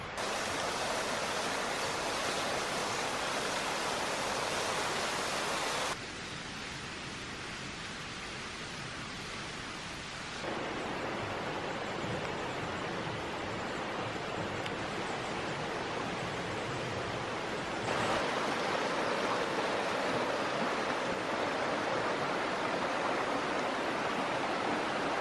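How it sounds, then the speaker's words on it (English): A small waterfall spills from a hillside beside a brook in a wooded valley, making a steady, close, full rushing roar that shifts slightly in tone over its length, with no voices. "we have found a lovely little bit of a waterfall there"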